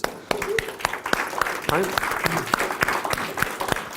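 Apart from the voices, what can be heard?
audience applause for a coaching client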